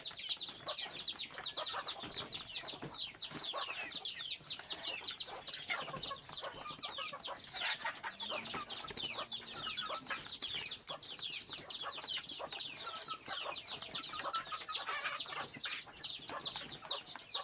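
Desi chickens kept at home cluck and chatter continuously while eating their feed, many birds close by with overlapping calls and occasional wing flaps, no talking.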